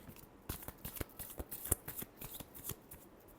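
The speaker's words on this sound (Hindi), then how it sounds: "last shuffle" Tarot cards being shuffled in a quick run of crisp riffling snaps and flutters, close and fairly quiet, with no voices.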